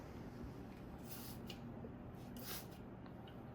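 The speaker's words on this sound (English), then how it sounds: "This is how we did a foliar spray." A foliar spray bottle hisses over Venus flytrap plants in two short bursts, a couple of quick squirts each, against a quiet background.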